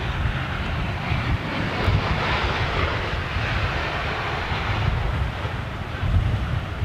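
A jet airliner powered by CFM56 engines passes overhead with a steady, broad roar, blended with wind buffeting the microphone and no speech.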